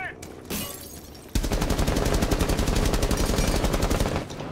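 Gunfire in the Rainbow Six Siege video game: a few scattered shots, then a long rapid burst of automatic fire, loud and close, with no voices.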